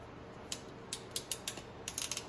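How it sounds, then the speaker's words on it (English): Ratcheting wire crimpers working on wiring for a 1970 Pontiac LeMans, heard as a faint series of quick, dry clicks in small clusters over a low background hiss. "I take this set of crimpers, I set these up a little tighter than what they were. These are ratcheting ones."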